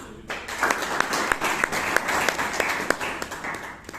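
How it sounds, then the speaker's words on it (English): Audience applause at a Bangalore Toastmasters club meeting, a steady wash of many hands clapping that starts abruptly and carries on at an even, moderately loud level. "Big round of applause for them."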